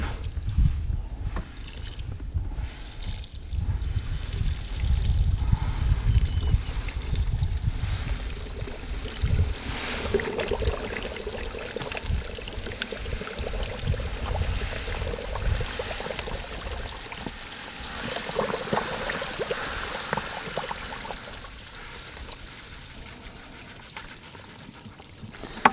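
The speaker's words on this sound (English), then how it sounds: "So I'll just pour this slowly into the bucket." Thick clay slurry being poured slowly into a bucket while making primitive pottery, giving a long, soft, steady trickling and sloshing with faint water noise and no talking.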